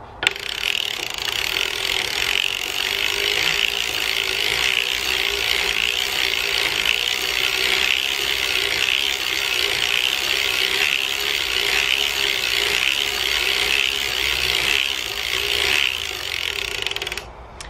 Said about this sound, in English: I've cranked out 15 rows, so I'm going to crank out another 15 before we start hanging the hem.